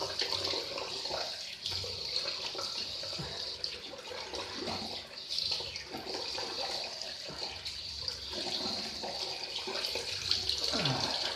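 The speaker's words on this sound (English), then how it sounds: "Cold water." Cold water runs steadily from a bathroom tap into a sink while shaving with a Lord L6 slant razor, a continuous splashing hiss lasting several seconds with no voices.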